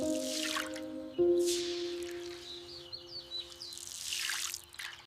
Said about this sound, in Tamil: முதலில் அரிசியை நன்றாக கழுவிக்கொள்ளலாம்.